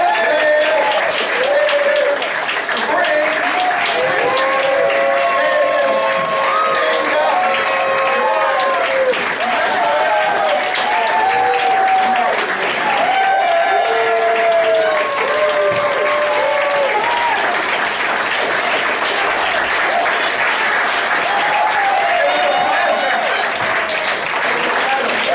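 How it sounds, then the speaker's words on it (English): Sustained, loud audience applause at a stand-up comedy showcase fills the room for about 25 seconds, with cheers and whoops rising over the dense clapping throughout. "give it one more big old round of applause"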